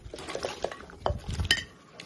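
Strips of pig stomach stir-fried in a wok: metal spatula clatters and scrapes against the pan in quick, uneven bursts over a faint sizzle, close up and without talk.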